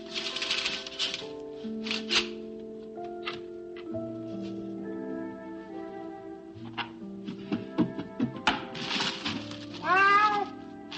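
A cat meows repeatedly at dinner time against sustained background music, with several short cries scattered through and a louder drawn-out meow near the end.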